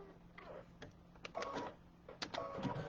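An embroidery machine stitches placement lines for an Easter egg zipper bag, giving faint, intermittent mechanical whirring with scattered clicks and taps over a low steady hum.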